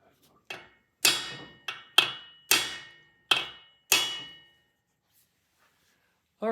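Seven sharp metallic hammer strikes on a drift during vintage British motorcycle repair, each ringing briefly, in an uneven rhythm, then quiet.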